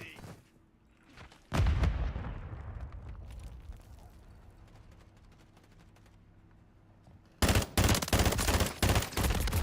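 Video game shooter gunfire: a loud shot with a ringing decay, scattered lighter shots, then a rapid burst of several loud close reports near the end.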